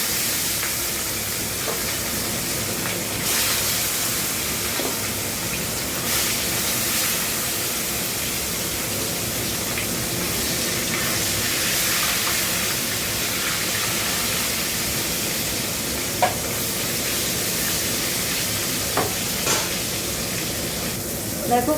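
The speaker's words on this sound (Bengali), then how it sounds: "এবার মাছগুলো দিয়ে দেবো।" Fish frying in hot oil in a kadai for a Bengali fish jhaal, giving a steady, dense sizzle with occasional sharp crackles and pops that holds for the whole stretch.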